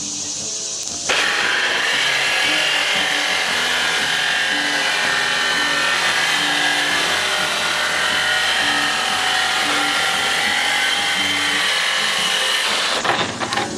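A power tool blade grinds through metal while building portable concession sinks, a loud continuous abrasive whine that holds steady for about twelve seconds after a sudden start, then cuts off near the end.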